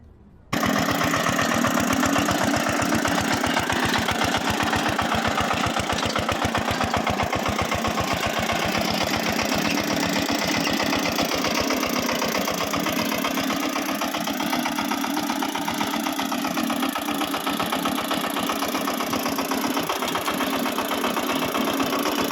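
A Vasudha Agro tractor's diesel engine chugs steadily at close range, a loud low rhythmic thrum running without pause for the whole stretch.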